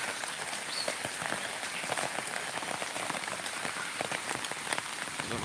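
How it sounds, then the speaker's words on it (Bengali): Heavy rain pours down steadily onto surfaces around a house after a night-long downpour, a dense, even hiss with scattered drop impacts and no voices. "প্রচন্ড বৃষ্টি প্রচন্ড বৃষ্টি"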